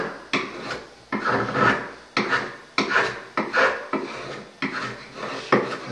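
Chisel paring excess dried string inlay material off a wooden surface, producing a series of close, scraping strokes in a steady rhythm of about eight passes, each a raspy rub that fades, with no talk.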